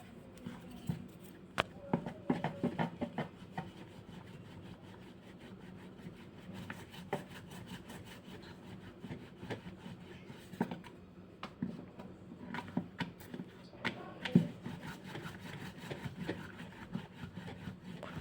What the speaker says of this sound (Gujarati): હવે આપણે પાટલા ઉપર રાખીને મીડિયમ સાઇઝનો એને વણશું